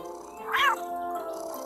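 A cat meowing in the video game The Herbalist: a single short, whiny meow rising and falling over a quiet musical game background.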